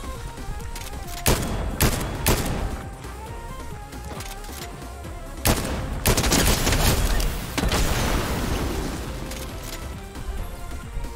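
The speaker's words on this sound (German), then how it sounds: "Oder war das noch ein anderer Schuss?" Fortnite gunfire crackles in bursts: several sharp, loud shots and rapid volleys spread across the stretch, some heavy and booming, with explosive crashes layered over a constant game backdrop.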